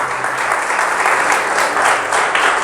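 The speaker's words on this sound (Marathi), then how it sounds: "जर वाजवायचं असेल तर जोरदार टाळ्या वाजवा प्रियानो." A congregation at a church sermon bursts into loud, dense applause, hands clapping vigorously and continuously throughout, close and full.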